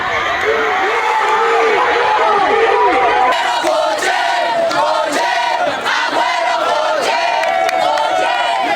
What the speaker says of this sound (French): le stade de l'unité des Goma a vibré au rythme de cris de joie et des applaudissements